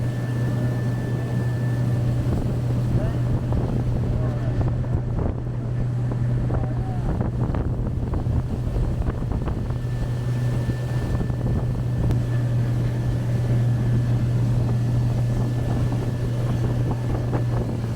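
Steady low droning engine hum of a motorboat running continuously, with wind buffeting and water noise over it.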